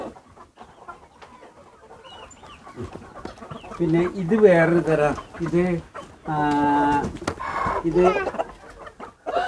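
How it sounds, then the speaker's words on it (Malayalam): Kuroiler and Australorp chickens cluck repeatedly in a pen, their calls heard close by beneath someone talking throughout. "ഇത് വേറൊരു തരം കോഴികളാണ്"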